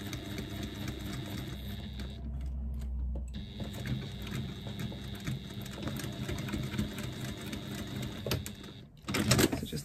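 Sewing machine stitching fabric, a steady mechanical whirring hum that runs almost continuously and pauses briefly near the middle before resuming, close and moderately loud with no talk.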